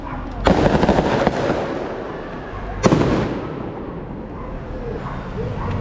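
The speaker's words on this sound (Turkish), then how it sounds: "Arka tarafta patlamalar." Two loud bursts of fireworks boom a couple of seconds apart over a constant roar of distant crowd noise.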